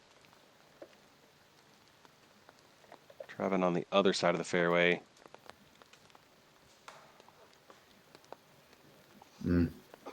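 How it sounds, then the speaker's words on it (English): Steady rain falls on a golf course during a tournament round, a soft continuous hiss dotted with faint pattering drops throughout, while someone speaks briefly midway and another short voice sounds near the end. "So rain's coming down pretty good."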